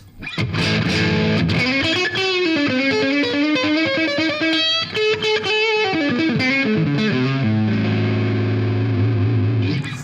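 A PRS CE24 electric guitar with split coil in middle position plays a distorted melodic lead line with bends and sustained notes, steady and loud throughout, with no talking.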